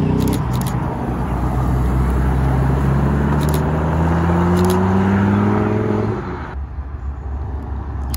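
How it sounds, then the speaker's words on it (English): A Lamborghini Gallardo pulls into a car meet with a loud, close engine note that climbs steadily in pitch as it accelerates, then cuts away. Lighter background noise remains after it passes. "Coming in hot, Lamborghini Gallardo."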